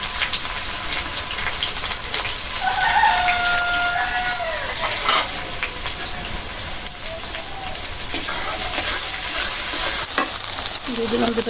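Garlic dropped into hot oil in a pan alongside already fried dried red chillies for khichuri, giving a loud, steady sizzle that crackles throughout with occasional utensil clatter.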